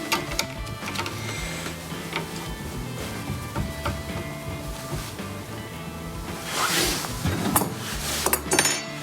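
A Longmill MK2 CNC router cuts with a half-inch bowl bit that is getting dull, giving a steady mechanical whir with clicks and clinks, and louder bursts of cutting noise near the end.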